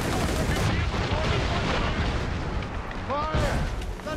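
Mortars fire during naval combat in Assassin's Creed Rogue, with dense, continuous booming blasts and crackling gunfire over rushing sea and wind, and voices shouting beneath the din.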